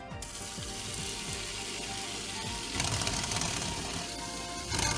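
A Xiaomi food waste disposer mounted under a kitchen sink runs after its button is pressed, giving a steady mechanical whir and grinding hum that continues throughout and gets slightly louder and harsher near the end.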